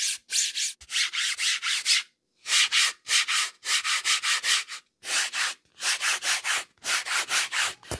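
A hand rubs across the faces of carbon fiber thermoformed pickleball paddles, giving close, dry scraping strokes in a steady rhythm of short bursts separated by brief pauses, with no talk.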